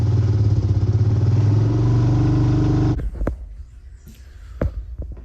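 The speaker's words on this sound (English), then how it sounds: "you want to get back down on your choke and adjust it until it's high idle" A Hawk 250 motorcycle engine runs on choke at a raised cold-start idle, a loud, steady throbbing putter close by, then cuts off abruptly, leaving a few light clicks and handling noises.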